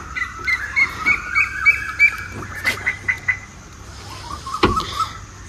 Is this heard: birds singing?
yes